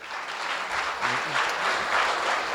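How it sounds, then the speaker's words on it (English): A room of guests at a gala dinner breaks into a full round of applause, thick continuous clapping that swells slightly and holds steady, with no voices over it. "But big round of applause, please."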